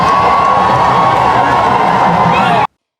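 Dense, enthusiastic crowd cheering and whooping along both sides of a street in Yaoundé, Cameroon, as Pope Leo XIV passes, loud and continuous before cutting off abruptly.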